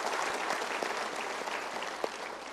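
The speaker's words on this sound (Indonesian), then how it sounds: "kita berikan tepuk tangan dulu" Sustained clapping from a seminar audience at a motivational talk, continuous and fairly even throughout, heard alone without anyone speaking.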